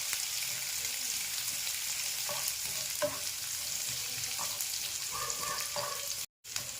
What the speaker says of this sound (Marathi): कांदा खूप असा लालसर किंवा मऊ करायचा नाही आहे, 2 मिनिटं आपल्याला हा परतवायचा आहे।